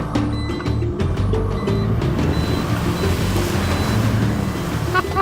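A Force Gurkha SUV ploughs through water, its steady engine rumble blending with a continuous wash and splash of water that stays loud and close throughout.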